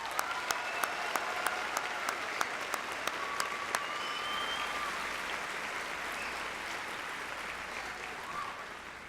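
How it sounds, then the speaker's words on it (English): Graduation audience at North High applauding the staff, a dense, sustained wash of clapping from a large crowd with a few sharper individual claps standing out near the start, steady and fairly loud throughout. "Please join me in a round of applause for the North High staff."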